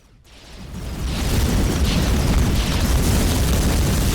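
Weapons fire and explosions in the space strategy game Hyper Empire: a deep, rumbling blast swells over the first second, then holds as a loud, sustained roar of overlapping booms with no talking.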